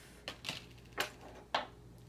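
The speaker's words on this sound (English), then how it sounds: "Because I know it's too long, I'm going to cut a little bit off." Wire for a boho beaded craft made on skewers is cut in a few quiet, sharp snips, about four crisp clicks spaced unevenly over two seconds, with no talking.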